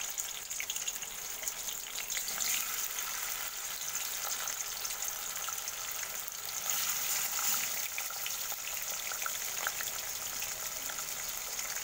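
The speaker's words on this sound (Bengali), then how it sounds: "দেখো তেল হিট হয়ে গেছে, প্রথমে মাছগুলোকে ভেজে নেব।" Pieces of Ganges silver carp fry in hot oil in a home kitchen, a soft steady sizzle and crackle, fairly faint and continuous with no talking.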